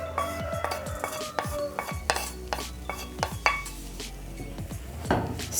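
Roughly chopped large white onions going into an oiled pan for beef liver, with a light sizzle beneath a run of spoon scrapes and clinks against the pan, close up and without speech.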